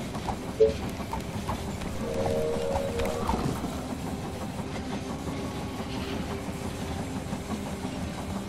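Train pulling into a station in the strategy game They Are Billions, a low steady rumble of rolling wagons with a brief higher tone near the start, moderately loud and continuous, with no speech.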